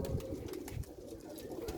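Pigeons coo on a rooftop, a soft repeated low cooing at a moderate distance that keeps up at a gentle rhythm.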